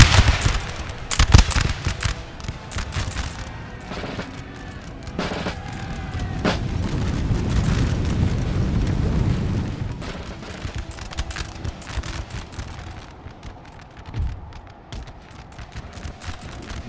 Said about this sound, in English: They're almost blowing each other up.